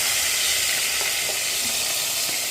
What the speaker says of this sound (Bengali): হাই ফ্লেমে রেখে 2 পিঠটা আমি হালকা করে ভেজে নিলাম।